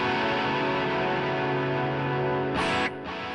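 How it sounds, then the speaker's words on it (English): A sustained electric guitar chord through a Digitech iPB-10 multi-effects chorus rings with a shimmering, wavering effect, then cuts off abruptly near the end. "on the chorus there."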